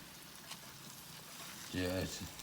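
Turkey wings sizzle steadily as they cook in a Power XL appliance, a soft continuous frying hiss. A brief voiced, tonal sound rises near the end before the sizzle carries on.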